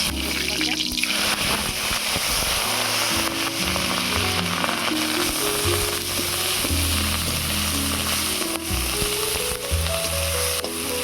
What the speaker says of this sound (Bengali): ফোড়নে দিচ্ছি গোটা গরম মশলা